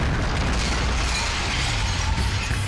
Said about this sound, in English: Several of the officers are blown off their feet and pelted with debris from the blast.